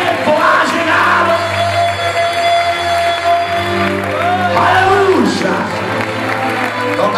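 A church congregation at a Spanish-language service cheers and claps, with loud shouts rising from the crowd over sustained music and a voice calling out.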